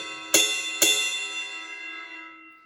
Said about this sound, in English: And it has a bell that makes a high-pitched sound,